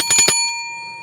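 A bright bicycle-style bell rings three quick times, loud and close, then leaves a clear metallic ring that fades slowly into silence.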